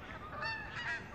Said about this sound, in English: The geese are confused due to the jet trails